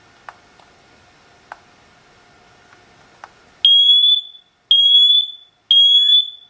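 A SITERWELL hardwired smoke and carbon monoxide detector runs its alarm test: after a few faint clicks come three loud, piercing high beeps in a steady pattern, very close.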